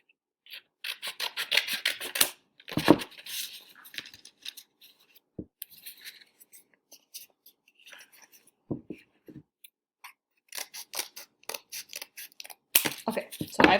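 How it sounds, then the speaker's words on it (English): Scissors snipping an index card into quarters, close, crisp rasping cuts in quick repeated bursts separated by short silences and paper handling, with occasional soft thuds. "Okay, so I've cut the index card into quarters."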